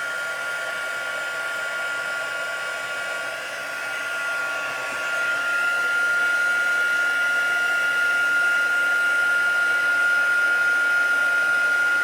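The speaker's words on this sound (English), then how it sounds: "It's seriously heavy-duty heat gun." A heavy-duty heat gun blows steadily for embossing on a scrapbook layout, a loud continuous airy whoosh with a thin high whine, rising slightly in strength about halfway through and holding close and constant.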